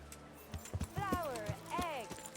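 A horse in Kingdom Come: Deliverance clops its hooves in a slow, uneven walk, close and soft, with a couple of whinny-like calls above the steps.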